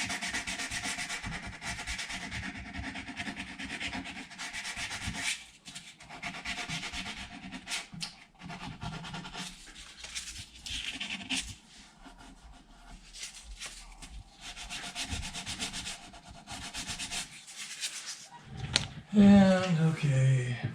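A guitar nut on a 40th anniversary Fender Squier Strat being sanded with 800 grit paper, heard as bursts of close rasping strokes with brief pauses between them, and a voice speaking near the end.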